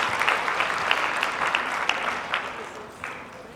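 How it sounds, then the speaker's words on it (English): An audience at a professional business talk applauds steadily, a dense patter of many hands clapping at moderate distance, fading slightly toward the end. "So round of applause for you."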